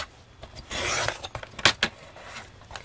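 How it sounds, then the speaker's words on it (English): A hand cutter trims around the edge of a paper craft tag, producing soft scraping rasps in short bursts, with one longer stroke and several brief cuts at close range and no talking. "now I'm just going to use my cutter to go around the edge"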